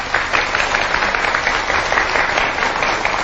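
A studio audience applauds to welcome a guest onto a Thai television programme, a dense, steady wash of clapping from many hands that stays loud and even throughout, with no talk over it.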